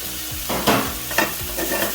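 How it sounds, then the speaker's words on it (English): Vegetables with snow peas sizzle in a hot stir-fry pan for chicken stir fry, with loud, close bursts of stirring and scraping over a steady frying hiss, no voices. "I stir, then I let the vegetables fry"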